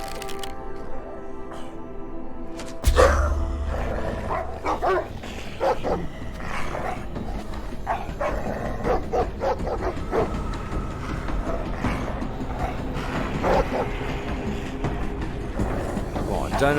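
In the VR game Testament, a pair of patrolling dogs bark and yip repeatedly at mid distance amid game ambience, beginning after a quiet intro with a sudden loud crack.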